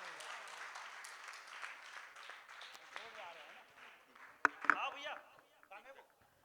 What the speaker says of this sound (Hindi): जोरदार ताली यार।